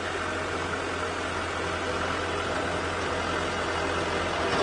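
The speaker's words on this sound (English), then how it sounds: "I'm watching the tractor that is coming towards us." A tractor pulling a trailer rumbles on a safari track at sunrise. Its steady engine drone comes from some distance under wind-like noise, holding constant without clear change and with no talk.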